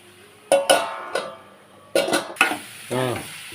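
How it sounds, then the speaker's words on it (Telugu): Spoon stirring drumstick and tomato curry in a pot, with several distinct scrapes and clinks against the metal in bursts, near and fairly quiet, followed by a brief voice. "మళ్ళీ కలుపుతున్నావు ఏంటి"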